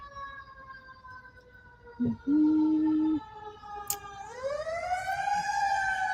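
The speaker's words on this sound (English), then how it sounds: "Let's see what else is here while we let the sirens go by." Wailing sirens sounding from a distance, rising and falling in pitch as they pass, with a brief low hum and a short murmured voice partway through.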